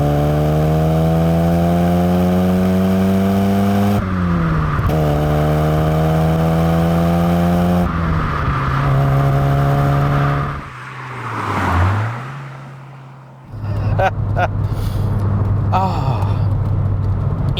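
A classic Ford Fiesta RS1800 engine revs repeatedly, its pitch climbing and dropping in steady surges, then dips and bogs briefly before pulling strongly again, loud and close.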